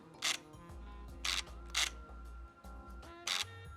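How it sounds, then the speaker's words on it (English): The autofocus motor of a Fuji DL-300 1980s compact film camera whirs and grinds in short bursts, several quick mechanical buzzes with brief pauses between them, close and fairly quiet. "the autofocus mode definitely makes kind of a grindy kind of noise"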